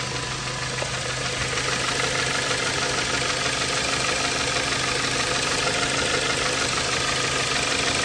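A Dodge Avenger engine idles steadily after a thermostat housing replacement, a constant close hum with a faint rhythmic ticking running evenly throughout, no voices over it.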